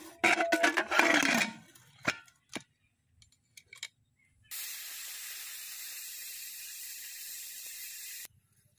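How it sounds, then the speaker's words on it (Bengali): Pressure cooker cooking dal releases a steady, loud hiss of escaping steam lasting several seconds, after earlier clattering kitchen knocks and ticks. "3টা সিটি পড়েছে। এবার প্রেসার কুকারটা আমি উনুন থেকে নামিয়ে দেব।"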